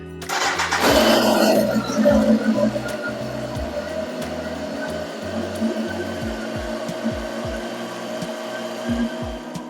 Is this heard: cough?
no